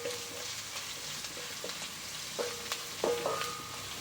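Vada batter mix with curry leaves and coriander being stirred in a pan, a soft scraping and faint sizzle with a few brief clinks of the utensil against the pan, fairly quiet throughout with no talking.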